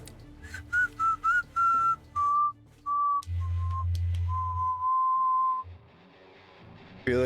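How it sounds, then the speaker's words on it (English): A character whistles in the video game Dark Souls 2, a string of clear, sustained tonal notes in short phrases over a low rumbling game background, with a few pauses between notes. "I feel like Luigi and Luigi's Mansion just whistling out of pure fear."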